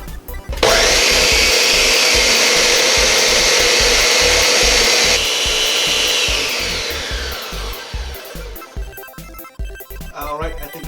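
A countertop blender purees blueberries for an orange and blueberry wheat homebrew beer, starting abruptly with a loud, steady whine that holds for several seconds, dips in pitch partway, then winds down into rattling and clunks near the end.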